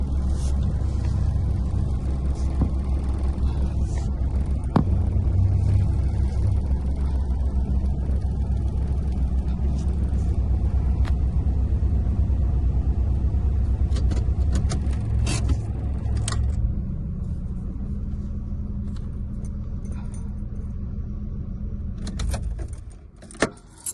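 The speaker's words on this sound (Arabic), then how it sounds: "غنباركي الطوموبيل، غنشوف فين كاين بلاصه" A car rolling slowly through a parking area in Bahrain while searching for a space, with a steady low engine and road hum, small rattles and clicks inside the cabin, and the motor easing off near the end.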